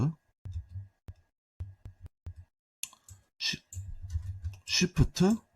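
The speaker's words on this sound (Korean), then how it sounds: "Shift를 누른 상태에서 스페이스 키를 누르면은" Several soft, sharp clicks from keys on a computer keyboard as Shift and the space bar are pressed, isolated taps at first and then continuing under a man's close speech.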